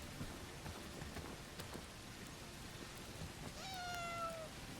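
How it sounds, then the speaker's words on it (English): A cat in the video game Bellwright gives a single clear meow near the end, heard over a steady hiss of rain. "Oh, and by the way, I've got a cat also now, Ferdinand."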